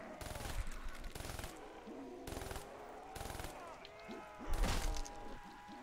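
Bursts of gunfire from a weapon in Black Ops 3 Zombies at round 19: rapid, loud volleys repeating every second or so, with thuds and impact noise between them and a heavier burst near the end.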